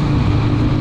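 A Honda TMX 155 motorcycle's long-stroke single-cylinder engine hums at a steady low rumble during a night ride, close and constant throughout the brief moment with no talking.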